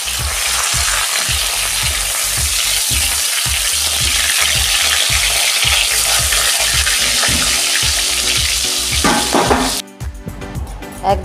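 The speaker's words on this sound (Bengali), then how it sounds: "তেল আমার গরম হয়ে গেছে, মাছ দিয়ে দিলাম, দুটো করে ভেজে নিচ্ছি।" Katla fish pieces fry in hot oil in a home kitchen, a loud, continuous crackling sizzle with rhythmic spattering pulses, ending with a brief clatter.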